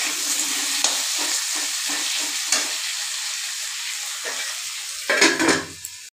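Potatoes frying in hot oil in a pan, a loud steady close sizzle with regular scraping stirs and a few louder clatters near the end.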